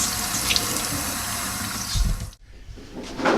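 A washing machine fills with warm water for cleaning microfiber towels and foam pads, a steady rushing pour that cuts off abruptly and then starts again, with a brief thump partway through.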